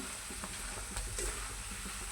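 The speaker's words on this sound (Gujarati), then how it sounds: "હવે આપણે મકાઈના પૌવા તળવાના છે" A quiet, even sizzle of flattened corn flakes frying in oil, with faint stirring scrapes now and then.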